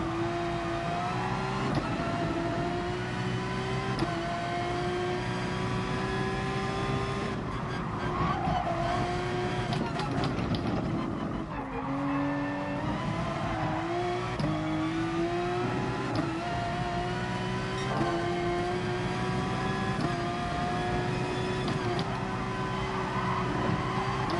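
Porsche race car engine in Gran Turismo Sport, a steady, loud, sustained drone with harmonic lines that shift pitch through gear changes and brief dips, running continuously with tire noise and no talk.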